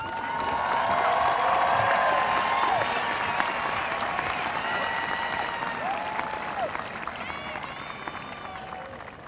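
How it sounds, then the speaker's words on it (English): Audience applause for honor graduates at the West Laurens High School Class of 2022 graduation ceremony, a broad sustained wash of clapping with crowd voices and whistles mixed in, slowly fading over several seconds. "Let's give a round of applause for our honor graduates"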